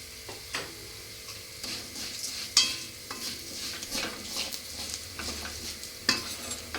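Moong dal with turmeric stirred in a hot pan, with repeated scraping strokes and sharp utensil clinks over a low, steady sizzle.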